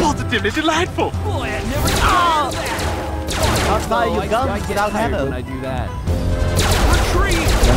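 Rapid plasma gun fire in the video game Family Guy: Back to the Multiverse, energetic bursts and crashes over music, while people talk excitedly throughout.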